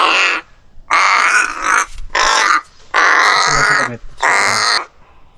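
A captured crow caws loudly and close by on a farm, giving five harsh calls in a broken rhythm with short silent gaps between them.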